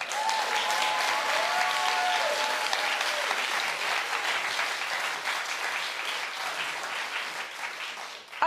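A talk show studio audience claps loudly and continuously in response to a host's prompt about a celebrity's hair color, with scattered whoops over the steady applause.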